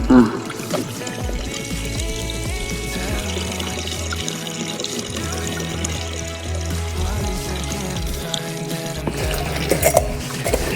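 Water runs continuously over a Millar table used to classify fine alluvial gold, a steady pouring and trickling wash with small splashes, loud and close throughout.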